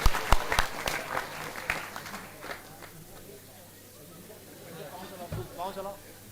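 An audience in a classroom-style talk claps hands in bursts of sharp, close claps at the start that thin out, followed by talking and laughter from people in the room.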